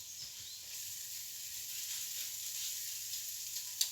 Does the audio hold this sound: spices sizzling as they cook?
yes